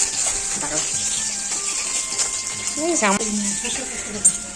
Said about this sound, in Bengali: এই যে মা এখন মাছ ভাজা তুলছে